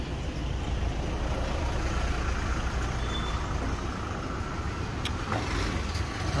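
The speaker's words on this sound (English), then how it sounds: "Another CUDA passing us." A car passes on a street in the Philippines, a steady loud road rumble with engine noise close by and no talk.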